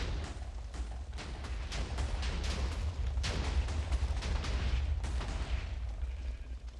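Minecraft explosion while widening a hole in the ground: a continuous rumbling roar with repeated crackling bursts and a sharper blast midway, fairly quiet overall and with no voices.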